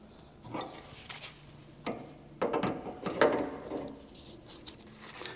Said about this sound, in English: I'm now going to tighten these connections to make sure,